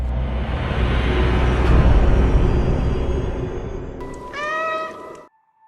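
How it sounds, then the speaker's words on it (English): Meowing from the ginger cat in the video game Stray, a short series of clear cries near the end over a dense ambient game backdrop. "The game starts off with a ginger little cat."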